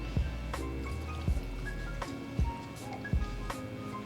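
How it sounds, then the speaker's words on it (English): Steamed milk pours from a small spouted pitcher into espresso for latte art, with soft liquid trickling, wet drips and a few distinct low splashy plops at close range. "So when I pour my milk"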